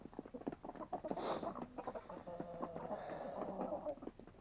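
A rooster and hens cluck and call nearby on a farm, with soft irregular clucks, a brief higher squawk and background murmur of people talking.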